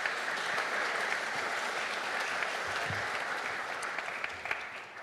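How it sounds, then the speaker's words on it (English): Conference audience at an energy and environment policy event applauding the panelists, a sustained moderate clapping from a sizable crowd that gradually thins toward the end, with a few louder individual claps near the close. "Can we get a round of applause, please, for our panelists?"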